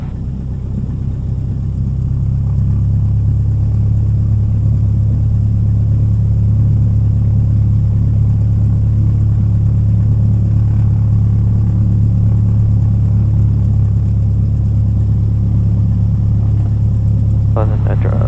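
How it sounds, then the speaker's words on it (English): Light aircraft engine held at a steady 1000 RPM idle before a solo flight, a continuous droning hum that stays loud and even throughout, with a brief rattle near the end. "Throttle maintain at 1000 RPM."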